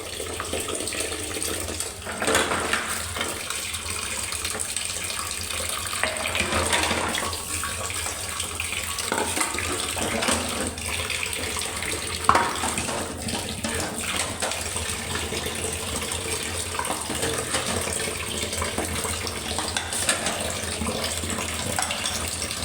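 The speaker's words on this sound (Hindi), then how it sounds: "किचन में जो बर्तन वगैरह पड़े थे तो मैंने कहा लगे हाथ उसको भी साफ़ करूँ" Tap water runs steadily into a kitchen sink while dishes are washed, a continuous close splashing gush with occasional clinks and shifts in the flow.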